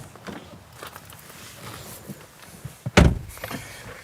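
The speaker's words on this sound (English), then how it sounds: "the door shuts with a thunk that you don't normally get from a frameless design of this sort" A BMW 2 Series Gran Coupe's frameless car door swings shut with a single solid thunk, preceded by faint handling and footstep noises nearby.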